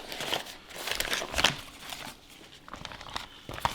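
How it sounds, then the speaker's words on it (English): Wrapping being peeled off a smoked beef picanha, close crinkling and rustling in uneven bursts with a few sharper tearing crackles. "Let's unwrap it."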